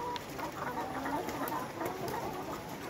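A flock of about 1100 layer hens clucks on a poultry farm, a continuous, busy murmur of many birds at moderate loudness with scattered individual clucks standing out.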